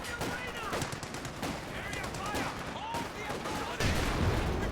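Heavy Cromwell tank cannon hits and gunfire in a Company of Heroes 2 battle, dense overlapping bursts and impacts over busy combat noise, with a louder burst near the end and commentary-style voice mixed in.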